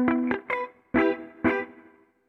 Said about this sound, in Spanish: este pedal tiene lo que es el 63 Spring, que es un reverb